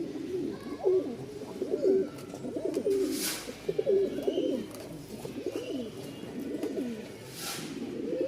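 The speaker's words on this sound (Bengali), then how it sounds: "ফাটাফাটি ডাকের একটা নর ডাক দেখলেই বুঝতে পারবেন" A male Giribaz pigeon coos in repeated rolling phrases, close and clear, with a steady rhythm of throaty calls and brief pauses between them.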